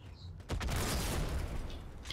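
A grenade blast in the Halo video game, a sudden loud boom that swells and rolls on as broadband rumble for about a second and a half, with voices faintly underneath.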